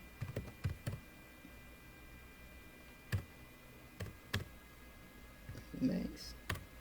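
Quiet, sparse keystrokes on a computer keyboard come in short bursts of sharp clicks with pauses between them, close by, while a voice speaks now and then.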